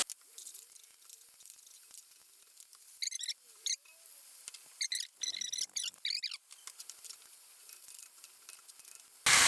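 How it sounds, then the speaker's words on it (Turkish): Tomatoes hit braised meat sizzling in a pan, giving quiet, intermittent bursts of crackling spatter over a soft background. "Şimdi hemen biraz domates ekliyorum."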